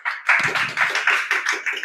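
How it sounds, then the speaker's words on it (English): A small audience claps at a Toastmasters meeting, the hand claps heard close and fairly sparse, in an uneven rhythm. "Give a round of applause to Toastmaster Elios."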